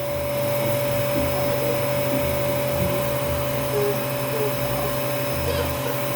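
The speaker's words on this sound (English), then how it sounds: "Hey, Ollie, do you like to vacuum?" A vacuum cleaner runs loud and steady throughout, its constant motor whine droning as it cleans up a cinnamon roll mess, with voices faintly underneath.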